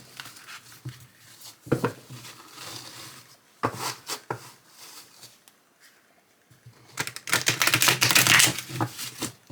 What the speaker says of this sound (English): All right, they shuffle fine.